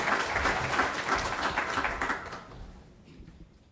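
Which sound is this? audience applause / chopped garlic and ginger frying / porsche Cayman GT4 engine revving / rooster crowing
audience applause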